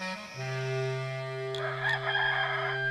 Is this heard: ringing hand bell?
no